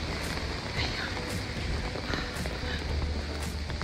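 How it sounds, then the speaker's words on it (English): Rain falls outdoors in Sydney in calm, warm weather, a dense steady patter close by with no wind, broken by faint crackles and background noise throughout. "Today's weather is not so bad even though it's raining"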